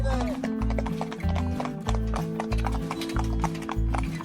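Horses climbing a hill at Appleby Horse Fair, with steady, close clip-clop hooves over a deep rhythmic low throb, and a brief whinny near the start.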